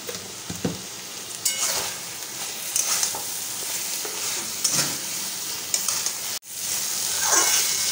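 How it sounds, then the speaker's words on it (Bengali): Ash gourd curry sizzling and frying in a pan while being stirred, with repeated scraping strokes of the spatula over a steady crackle, close and fairly loud, a brief cut near the end. "তো আমাদের চাল কুমড়ের চচ্চড়ি হয়ে গেছে, নামিয়ে দিচ্ছি।"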